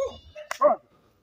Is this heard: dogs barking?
yes